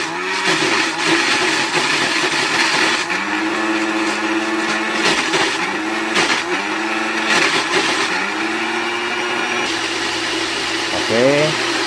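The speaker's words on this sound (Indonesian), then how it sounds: "Oke, kita blender." An electric kitchen blender grinding eight cloves of garlic into a spice paste for Medan radish cake, loud close motor whine that rises and dips in pitch through repeated pulses, with a voice speaking briefly.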